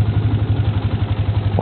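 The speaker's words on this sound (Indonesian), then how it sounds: "Oke, sekarang kita coba starter ya." A motorcycle running on a freshly replaced battery after an electric start, a close, loud idle with an even pulsing low throb and light mechanical clatter, no talking.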